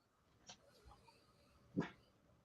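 A dog in a room gives two short, faint barks or yelps, about a second apart, far off in the background.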